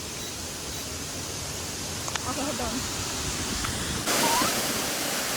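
A waterfall in Bali gives a steady broadband rush of falling water that fills the whole clip, growing louder near the end, while people talk briefly over it.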